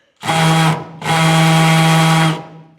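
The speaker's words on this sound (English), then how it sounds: "let's take that off hammer drill" A hammer drill runs in a garage in two loud, close bursts, a short one then a longer one, with a steady whining motor tone and gritty rattle, stopping abruptly between them.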